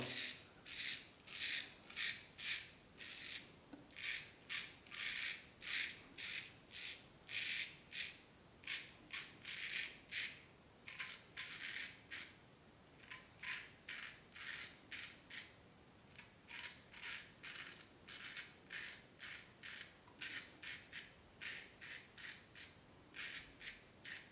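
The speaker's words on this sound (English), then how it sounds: "Cut that sideburn. Love the sound." A razor shaves off a sideburn in a steady run of crisp, rasping strokes, close up and loud, repeating in a quick even rhythm with brief pauses.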